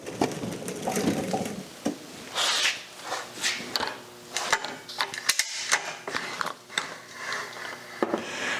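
Hand-cranked winch with a ratchet brake lifting a load on a jib crane in a mill, heard as a close series of irregular clicks, clanks and mechanical knocks, some sharp and loud, with no talking.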